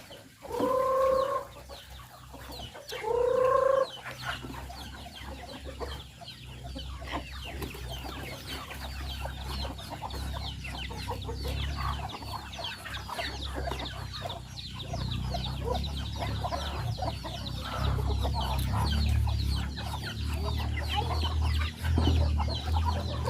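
Chickens clucking on a farm, with a few close, loud bursts of clucking near the start, then quieter scattered calls over a steady low rumble.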